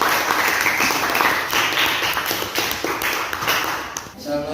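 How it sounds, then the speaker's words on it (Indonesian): Classroom audience clapping after a student group presentation on volcanism, a dense steady patter of many hands filling the room, with voices talking over it. "Oke, berikan aplaus ya."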